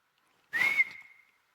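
A preacher whistles once to imitate a seductive catcall, a short clear tone that swoops upward and then holds steady before fading, heard alone and close.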